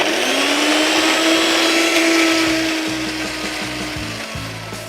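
An electric blender grinds chutney ingredients for a kebab paratha roll, a loud steady whir with a whining motor tone and rough rattling chunks knocking inside the jar, easing slightly toward the end.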